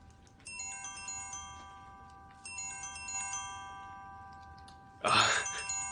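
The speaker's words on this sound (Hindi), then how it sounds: "मुझे लगता है आपका फोन बज रहा है" A mobile phone rings in a quiet room during a Korean drama dubbed into Hindi, its electronic ringtone melody repeating in a few bursts before a louder noisy rustle cuts in at the end.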